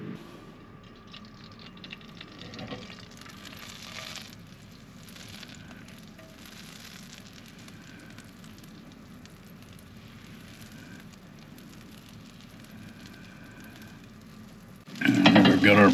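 Butter and oil sizzling in a hot pan over a flame inside a mini camper, a faint steady fizz that swells into a louder crackling burst at the end.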